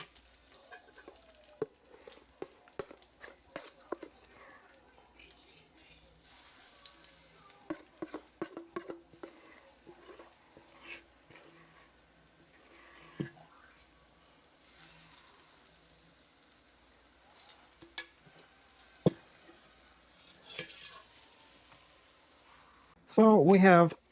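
Zucchini fritters frying over a low flame in a pan, a faint steady sizzle broken by scattered clicks and scrapes of a utensil, with a loud rustling burst near the end.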